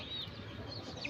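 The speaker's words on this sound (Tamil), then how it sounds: "நம்மளுடைய கோழியோட வீடுகள் பாருங்கள்" Chickens inside their hen house cluck softly, with faint, scattered calls heard at a low level.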